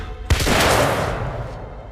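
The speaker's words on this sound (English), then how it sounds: "We had a gunshot!" A single sharp, loud gunshot rings out in The Order: 1886 video game and echoes off into a long, fading tail.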